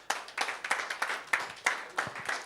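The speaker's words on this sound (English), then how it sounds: "One more applause to the whole center." A small group claps at a conference session honoring a center, with distinct, uneven handclaps, fairly close and moderately loud, and no talk.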